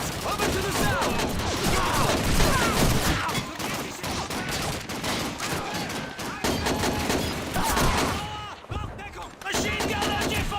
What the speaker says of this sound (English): Machine gun MJ-42!